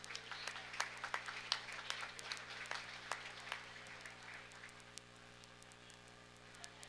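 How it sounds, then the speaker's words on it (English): Audience applause for a champion exhibitor at a county fair breeding beef cattle show, a quiet, spread-out patter of scattered claps over steady electrical hum, fading toward the end. "Let's give her a round of applause."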